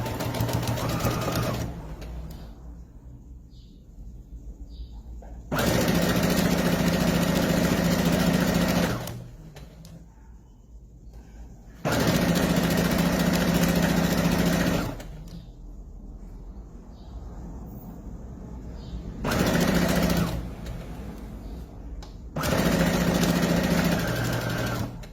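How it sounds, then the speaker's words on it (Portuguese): A sewing machine in a dressmaking atelier stitches fabric in four bursts of steady rapid whirring, each lasting a few seconds, separated by quieter pauses with faint handling noise. "Inicia a costura."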